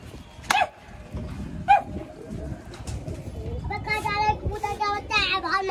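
Pigeons are released, fluttering and cooing amid outdoor background noise, with birds chirping toward the end and a dog barking briefly in the distance.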